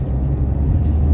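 A car engine rumbles low and steady as it accelerates on a driving-test route around Gonesse, heard from inside the cabin in a short burst.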